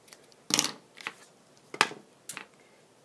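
Scissors snip through linen thread wound into a bow, giving four short, crisp cuts spaced about a second apart, fairly faint and close, with no voices.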